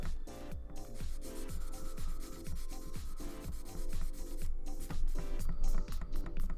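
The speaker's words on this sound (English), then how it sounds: "file that down" A small file scrapes a Gunpla plastic model kit part in quick, even back-and-forth strokes, about two per second, close up and steady throughout.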